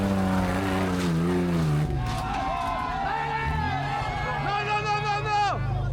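Off-road rigs revving and spinning through muddy Colombian rainforest, rising and falling engine whine from a vehicle nearby, with crowd voices and shouting throughout.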